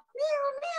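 A person imitates a cat with one sustained, tonal meow, close and clear, during a group breathing exercise marking a cat rescue day.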